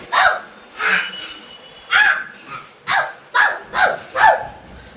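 A dog barks repeatedly, about eight sharp barks in an irregular rhythm, loud and close with short pauses between them.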